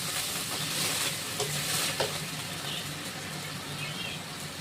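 Spice paste sizzling in a pan for a vegetable curry, a steady close hiss with a few faint stirring scrapes and a low hum underneath.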